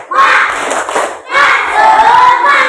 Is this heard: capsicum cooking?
no